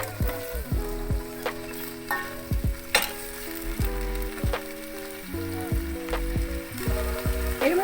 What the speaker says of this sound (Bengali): এটা ফুটছে, এর মধ্যে আমি পালংয়ের ডাঁটা দিলাম